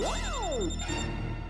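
A phone ringtone plays steadily, with sweeping synthesized tones rising and falling over a continuous musical backing, loud and uninterrupted.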